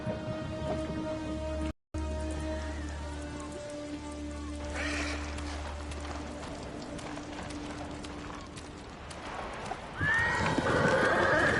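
Hooves of Kaze, a horse in the video game Ghost of Tsushima, clopping alongside whinnies, with rain falling in the background and a low droning tone beneath, the sounds growing busier toward the end.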